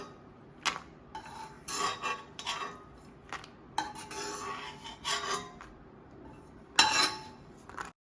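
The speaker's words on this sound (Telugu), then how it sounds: "అదే నెయ్యిలో రవ్వ ఫ్రై చేద్దాం" Semolina (rava) fried and stirred in ghee in a pan for rava kesari, heard as repeated scraping and rasping strokes of a spoon against the metal pan, with occasional clinks, close and moderately loud.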